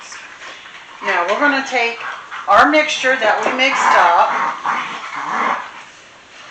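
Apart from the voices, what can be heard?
dogs barking while playing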